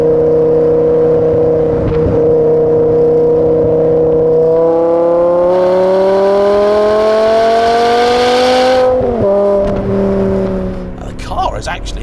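A 2006 BMW M5's V10 engine hums at low speed with a smooth, rising harmonic drone as it gently accelerates and then eases off, loud and close from inside the car while someone talks over it.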